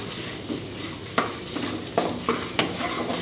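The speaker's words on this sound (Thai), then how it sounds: "ผัดพริกแกงให้หอมเลยค่ะ" Curry paste being stir-fried in a pan for chicken with basil, with a steady low sizzle and a few sharp spatula scrapes and taps against the pan, close up and with no talking.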